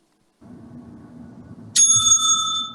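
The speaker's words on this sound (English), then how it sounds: "The bell will be ringing again" A timekeeper's bell rings once, sharp and close, in a school debate round, its bright metallic tone lingering and decaying after a stretch of low background murmur.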